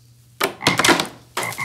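Frog croaking sound effect, a few loud, rasping croaks in quick, uneven succession with a short pause before the last one, close and alone.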